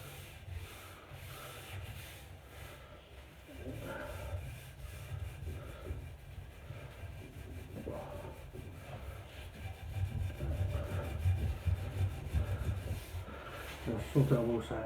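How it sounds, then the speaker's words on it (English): Wire wool scrubs back and forth across a wooden dining table, stripping the finish with a continuous close rubbing rasp, and a voice talks over it at times. "this wire wool is able to work on this wood"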